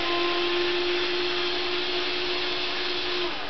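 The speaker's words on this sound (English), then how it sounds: "Get my handy dandy cordless screwdriver. No one wants carpal tunnel." A cordless screwdriver runs in one steady, close, loud electric whine, a constant motor tone that holds without pause, then dips slightly near the end, with no talking.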